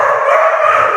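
A dog gives a loud, close, drawn-out vocalization, a yelping, howl-like bark that fills about a second with no speech over it.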